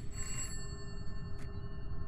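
An old-style telephone bell rings in a horror video game set in a haunted house, a short trill close and fairly clear over a low steady background hum, followed by a briefer second burst.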